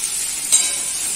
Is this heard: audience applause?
no